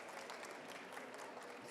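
Audience applause for Valéria's birthday at a Senac Rio summit session on AI and music copyright: a dense, even wash of clapping from a crowd, faint and distant, continuous for the whole moment.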